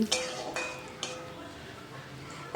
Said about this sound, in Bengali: এখন পেঁয়াজটাকে আমি মিডিয়াম ফ্লেমে হালকা বাদামি করে ভেজে নিচ্ছি